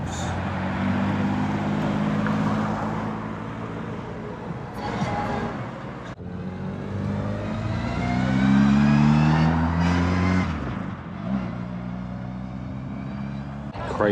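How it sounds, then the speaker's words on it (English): A Martini-liveried Mark 1 Golf convertible and a blue Ford RS2000 drive past at a classic car show, engines rising and falling in pitch as they pass nearby, with a steady crowd and engine backdrop and talk mixed in. "Crazy Martini livery Mark 1 Golf convertible, followed by the blue RS2000."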